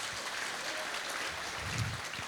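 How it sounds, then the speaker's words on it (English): A conference audience at a Go programming event applauds flash talk speakers, a steady wash of clapping from many hands that stays even and continuous throughout, with faint voices beneath. "I think we need a loud round of applause for all the speakers in the Flash Talk"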